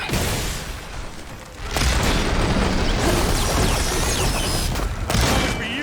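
Supporting fire and explosions in the video game Horizon Forbidden West, dense booming blasts and rapid bursts layered into a loud, continuous barrage that swells after the first couple of seconds, with no talk.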